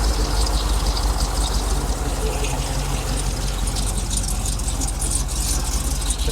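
A rebuilt engine in a Chevrolet Trailblazer SS idles steadily just after startup, a loud, even broadband rumble with no breaks across the whole stretch and no talk over it.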